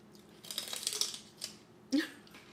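A crunchy snack with raisins is chewed up close, giving a few short, crisp bursts of crunching separated by brief pauses.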